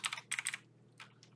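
Keys clatter on a computer keyboard in quick bursts of several strokes, then a pause and a few scattered taps, close and quiet over a faint electrical hum.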